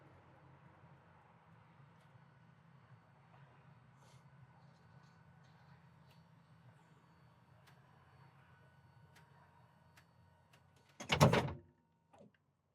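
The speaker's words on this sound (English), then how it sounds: "And then I am able to close the door." A car door is pulled shut from inside, one loud thud near the end after a long stretch of quiet low rumble and faint clicks.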